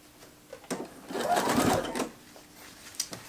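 Sewing machine stitching around a sleeve curve on a dress, a soft, quiet whirring run of about a second, with faint clicks before and after.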